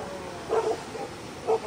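Several dogs at a rural property with a waterfall bark twice in welcome, short yelping barks about a second apart, moderately near over steady rushing water noise.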